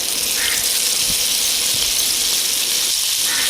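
Masala-coated chicken fries in hot oil in a kadai, giving a loud, continuous hiss with a high squealing edge and no voices.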